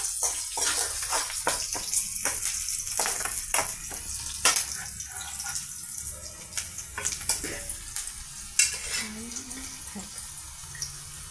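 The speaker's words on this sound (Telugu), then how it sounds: "ఇప్పుడు బాండీలో ఆయిల్తో పెద్దలపాయ పీసెస్, పోపు మసాలా, కర్రీ లీవ్స్ అన్నీ ఫ్రై చేస్తున్నామండి." Onion pieces, tempering masala and curry leaves frying in oil in a kadai, a soft continuous sizzle under sharp scraping and stirring clicks from a spatula, close and moderately quiet.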